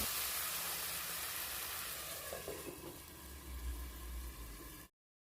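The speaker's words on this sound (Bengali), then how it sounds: "এবার দিয়ে দিচ্ছি সেদ্ধ করে রাখা আলু, মটর ও চিকেন।" Boiled potatoes, green peas and chicken sizzle loudly in a hot pan over a high flame for a Bengali ghugni, a steady bright hiss that swells slightly midway before cutting off abruptly.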